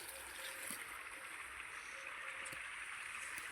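Irrigation water runs into a farm field with a faint, steady trickling and gurgling flow, quiet and distant, with no talking.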